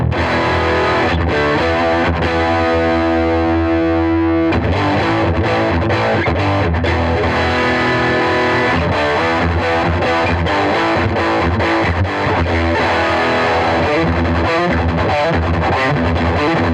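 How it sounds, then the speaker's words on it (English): An electric guitar plays through a Bugera V22 Infinium tube amp on the bright channel with the gain up, loud and distorted. A sustained chord rings first, then busy riffing continues to the end with no talking. "let's see how much gain this thing does. Let's switch over to the bright channel."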